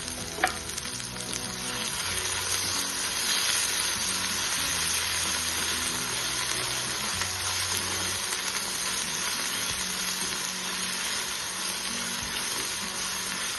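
Steady close sizzling of spring onion greens and coriander being sautéed in a pan, a continuous frying hiss with faint stirring scrapes throughout and no talk.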